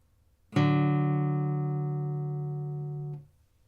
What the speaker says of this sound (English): Here's the second.